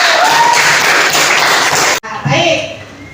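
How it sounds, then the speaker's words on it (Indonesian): A classroom group claps for a student, a dense burst of hand clapping for about two seconds that cuts off abruptly, followed by a teacher's voice speaking. "Tepuk tangan untuk Ayu"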